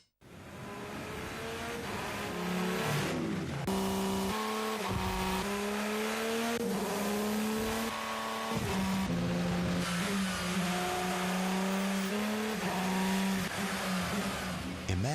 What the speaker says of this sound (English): Imagine a diesel engine with race-winning technology that goes beyond the racetrack